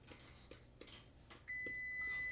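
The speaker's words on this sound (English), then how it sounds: "Oh, and there's my timer for the cranberry." A kitchen timer goes off for cranberries cooking, starting as a steady, fairly loud electronic tone partway through and holding on, after a few faint earlier clicks and taps in a quiet kitchen.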